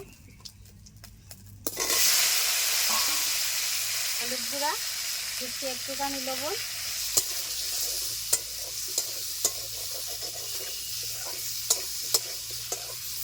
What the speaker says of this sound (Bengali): মাছ ভাজা তেলে আমি আলুগুলি ভেজে নেব।